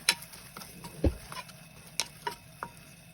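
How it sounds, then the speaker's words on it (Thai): Sake and sugar stirred together while cooking Japanese food, giving faint, sparse scrapes and light clinks at an irregular pace, with no talking. "แล้วก็คนให้เข้ากัน"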